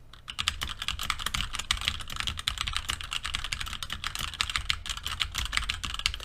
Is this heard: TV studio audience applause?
no